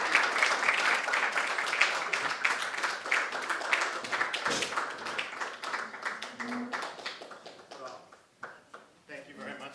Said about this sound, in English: let's give a warm round of applause to Timothy Donnelly